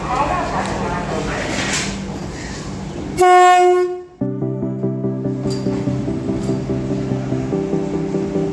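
A passenger train out of Howrah station sounds a loud, sustained horn blast partway through, then runs on with a steady rhythmic clatter of wheels and carriages. Voices are heard early on.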